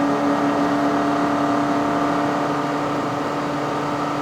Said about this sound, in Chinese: 这个声音哦，是不是你改好这个 exhaust 之后它才有啊？比较大声一点点。